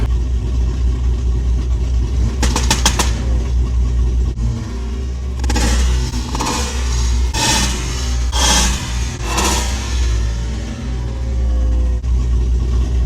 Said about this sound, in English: That was a Honda Civic.